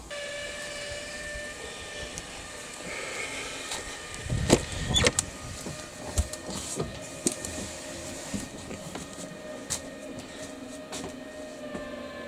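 Electric linear actuators move a vehicle slideout with a quiet, steady motor hum and whine, accompanied by a few knocks and creaks from the moving structure midway through.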